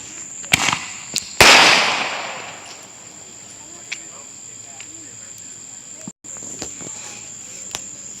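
Fireworks go off outdoors at night in a few sharp pops and one louder bang with a fading crackle, while crickets chirp steadily in the background and voices are heard briefly.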